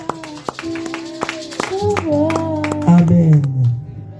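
A church congregation claps in rhythm to acclaim Jesus, steady sharp hand claps repeating about twice a second beneath a sung or chanted voice that carries a melody throughout.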